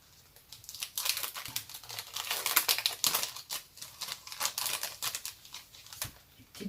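Paper cutouts are handled and slipped back into an envelope, making continuous close rustling and crinkling with small taps and shuffles, and no speech.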